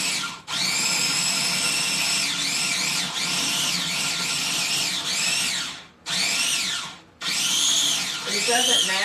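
A small food processor grinds raw Honeycrisp apple with a loud, steady whirring drone that briefly cuts out and restarts twice near the end, its pitch bending as the blades bite into the chunks.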